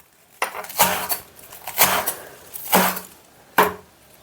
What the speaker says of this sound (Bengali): শাকগুলো আমি কেটে নিচ্ছি দেখো